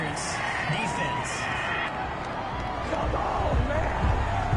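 Stadium home crowd in an American football video game cheering a pass interference penalty call, a steady broad roar with whoops that swells toward the end, with commentary voices talking over it.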